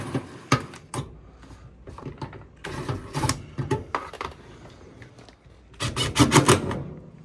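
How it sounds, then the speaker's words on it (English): Close, intermittent bursts of a screw gun driving five screws back into a Samsung dryer panel, each short whirring run separated by pauses, ending in a denser cluster of quick revs. "Now we're gonna go ahead and put our 5 screws back in that we took out earlier."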